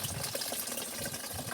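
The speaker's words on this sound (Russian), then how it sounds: "Все, вода пошла." Water runs from a flexible hose into a container in a garden, a steady, close gushing fill with no voices.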